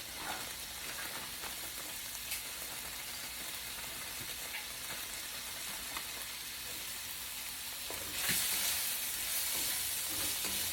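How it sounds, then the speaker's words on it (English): Chopped onions sizzle in hot oil in a pan while being stirred for shrimp fried rice, a soft continuous crackle with scraping stir strokes. The sizzle flares brighter and louder for the final few seconds. "And we're going to throw in the onions that we've already cut up."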